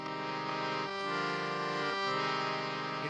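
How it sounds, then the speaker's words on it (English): Indian harmonium with pumped bellows, holding sustained reedy chords that shift a couple of times, steady and fairly quiet with no talk. "I am playing this rather peculiar Indian instrument called a harmonium."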